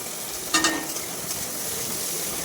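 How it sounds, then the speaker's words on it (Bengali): Onions sizzle steadily in a hot pan while being stirred for a jackfruit curry, a constant close frying hiss with a brief scrape of the utensil near the start. "এবার পেঁয়াজগুলো ভালো করে নাড়াচাড়া করে নিলাম।"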